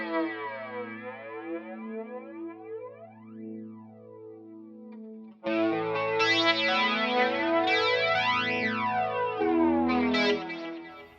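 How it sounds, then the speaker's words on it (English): An electric guitar played through the Space Flanger preset in Native Instruments Guitar Rig 6 gives sweeping, swirling jet-like tones, first sparse sustained notes, then louder, fuller strummed chords. "Space flanger."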